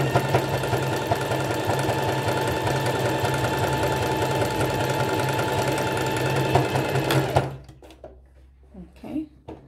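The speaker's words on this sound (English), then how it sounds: "So you have to check out your machine and see the settings for your zigzag stitch." A sewing machine runs a zigzag stitch at a steady fast whir with a rhythmic mechanical clatter, nearby and continuous for about seven seconds before stopping abruptly; a few soft handling sounds follow.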